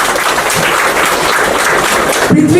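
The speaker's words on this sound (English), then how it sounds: "Do give him a round of applause" Audience applause for the artist Prithviraj at a book launch and felicitation event: a steady, dense wash of clapping that fills the room, loud and continuous, with a brief tonal sound near the end.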